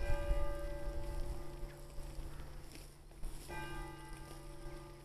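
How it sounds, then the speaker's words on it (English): The bell of St. Catherine's Church in Montacute, England, rings out in two clear, ringing strokes, each leaving a long humming decay over quiet outdoor ambience. "Somebody is ringing the bell."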